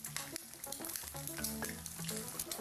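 Eggs frying in a pan over a dry alcohol fuel burner, giving a busy, fairly quiet crackling sizzle with frequent small pops, steady throughout and free of speech.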